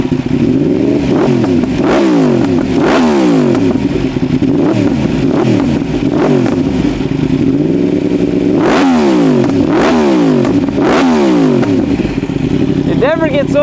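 A warmed-up Yamaha R1M 1000cc superbike engine is revved hard again and again, each sharp rise in pitch dropping back to idle, loud and close throughout.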